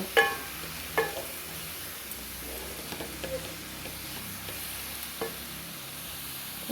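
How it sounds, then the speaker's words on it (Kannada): Carrot palya with grated coconut being stirred in a pan, with soft scraping and a few spoon knocks against the pan over a quiet, steady sizzle. "ಸ್ವಲ್ಪ ಎಲ್ಲ ಫುಲ್ ಮಿಕ್ಸ್ ಮಾಡ್ಕೊಬೇಕು"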